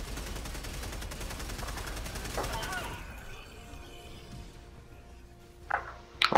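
Rapid gunfire from a whole magazine being emptied in Helldivers 2 rattles steadily for about three seconds, then fades into quieter game ambience, with a few sharp bursts near the end.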